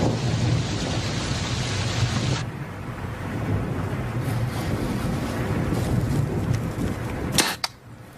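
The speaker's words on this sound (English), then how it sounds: "Oh, I wish this rain would let up." Steady, heavy rain hissing throughout, with a deep rumble underneath and a couple of sharp clicks near the end.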